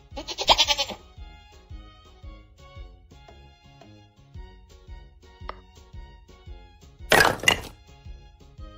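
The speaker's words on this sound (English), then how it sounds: "Goat." A goat gives two loud, wavering bleats, one near the start and one near the end, with light knocking and plinking game sounds between them.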